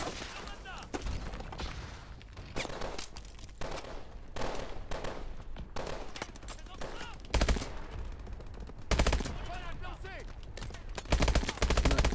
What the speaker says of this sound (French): Arrêtez de me tirer dessus